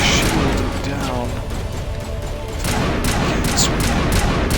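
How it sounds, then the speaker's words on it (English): Gunfire in the Mass Effect video game, a loud dense barrage of rapid shots and bursts that continues throughout, with a voice talking over it. "Sorry about all that gunfire."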